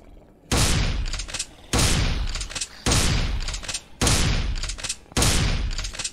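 Five loud, broadband bursts of gunfire from a space base video game, spaced about a second apart, each sustained and decaying with a tail, with no voices over them.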